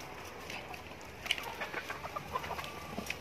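Chickens clucking while being fed, a series of short, soft close clucks and chirps over a quiet background.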